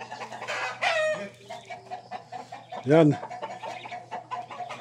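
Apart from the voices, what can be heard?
chickens clucking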